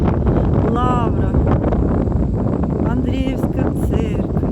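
Strong gusty wind over Kyiv buffets the microphone in a constant roar, with a voice speaking over it.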